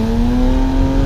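A twin turbo BMW 335i pulls hard on the highway, its loud, close engine holding a strong steady drone with a faint rising turbo whine throughout a short burst, with no talking.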